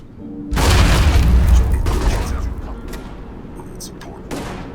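A grenade goes off in the video game Alpha Protocol as a sudden, loud, close boom with deep rumble that decays over a couple of seconds. Faint clatter and a softer thump follow.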